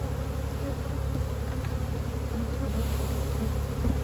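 Honey bees hum in a dense, steady, close swarm while nucleus hives are made from excess brood, a continuous loud drone with no talking.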